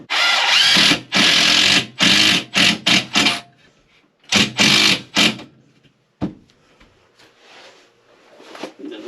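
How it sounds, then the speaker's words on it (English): A power drill drives a screw into wood in a string of short, loud whirring bursts, pausing between runs, followed by quieter handling noises and a faint clack. "So now I'll stick a screw in this."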